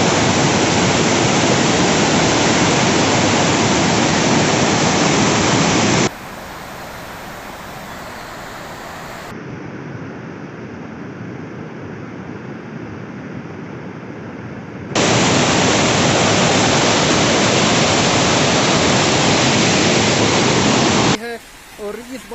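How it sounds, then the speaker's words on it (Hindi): Rainwater floods the streets and rushes fast in a steady, roaring wash that drops to a quieter flow partway through and then surges back loud. "और इस बारिश के चलते हुए यहाँ की गलियाँ काफ़ी भर चुकी है पानी से और इस तरह का पानी यहाँ चल रहा है"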